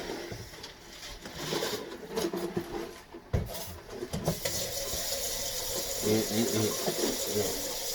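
Water runs from a tap in a steady, fairly loud stream, with low cooing and other background sounds mixed in and a brief voice nearby.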